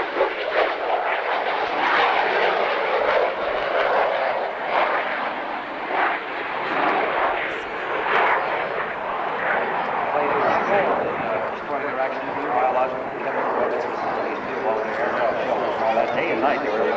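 An F-117A stealth aircraft roars past at the 1992 California International Airshow in Salinas, a sustained, loud jet rumble that swells and holds, with a public-address announcer speaking over it.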